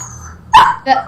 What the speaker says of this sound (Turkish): köpek sesleri duyabilirsiniz çünkü evde bir köpek var